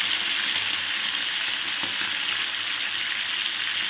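Pomfret fish frying in well-heated oil, a steady, dense hiss that holds level throughout without pause.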